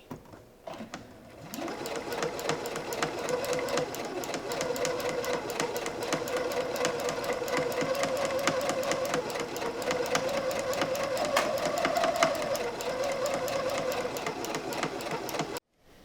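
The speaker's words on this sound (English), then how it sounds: "Considering I only have 2 hems to sew left, like, I can go slow, I can go quiet." A sewing machine runs continuously while sewing curtain hems, a steady mechanical whir with fast even needle clatter that starts after a brief pause and stops abruptly near the end.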